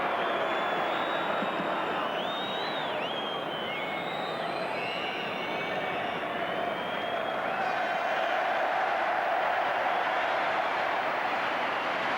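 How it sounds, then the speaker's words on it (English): A large football crowd at Wembley Stadium during England versus Hungary roars and chants in a steady, continuous wash of massed voices, loud and unbroken throughout. "So that bright finish to the first half has the Wembley crowd in good voice"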